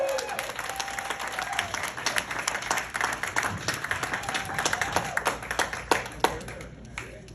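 A stand-up comedy audience applauding a comedian, dense close clapping with sharp individual hand claps and some cheering voices, sustained and gradually thinning toward the end.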